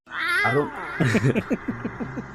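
A house cat lets out a long, rising-and-falling meow, then a run of short, choppy yowling calls, close and clear with nothing else around it.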